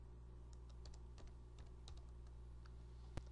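A patient's last name being typed on a computer keyboard: a quick run of light, irregular key clicks over a steady low hum, ending with one sharper tap, no talking.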